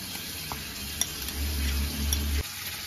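Pomfret fish frying in hot oil, a close crackling sizzle with a few light clinks of a utensil against the pan over a low rumble, no talking.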